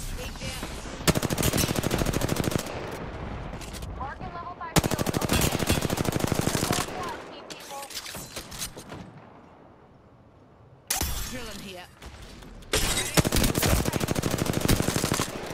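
Bursts of automatic gunfire from the battle royale game Apex Legends, loud rapid machine-gun strings that stop and start across several seconds, with quieter gaps in between.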